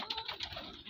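Pigeons cooing softly in a steady flutter of calls, with a faint busy background and no talking.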